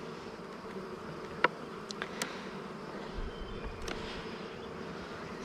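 Honeybees buzzing around a hive during an inspection, with forager bees flying in and out, a steady soft drone of wings broken by a few brief close passes.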